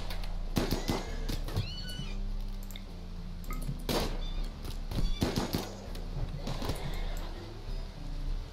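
Horses neigh and whinny in RimWorld, a colony-simulation video game, with sharp impact thuds, hoof-like knocks and layered game effects surrounding the calls over a continuous low hum.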